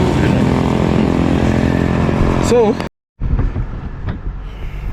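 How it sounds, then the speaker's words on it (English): Roadside traffic noise with a loud vehicle engine roaring close by and then cutting off abruptly, followed by quieter passing traffic and rumble. "Sorry about the noise, I'm just up by the roadside."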